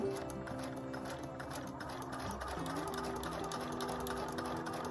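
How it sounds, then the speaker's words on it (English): A Husqvarna Viking #1+ sewing machine stitches sideways in a fast, steady mechanical chatter, close and fairly quiet, with a slight shift in pitch midway and no one speaking. "I'm going to be sewing sideways"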